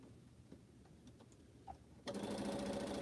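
Sewing machine stitching quilt block pieces starts up after quiet handling noises and runs steadily in a fast, close mechanical whir, loud and alone without talk.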